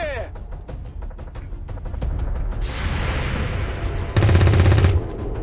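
Gunfire in the game XCOM 2: rapid automatic bursts and shots mixed with a sustained noisy blast and a louder rattling volley near the end, with game voices and effects around it.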